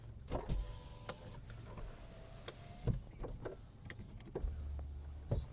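Power windows in a Volkswagen Golf Plus whir faintly up and down between scattered clicks and knocks from inside the car, quiet and close, with no speech.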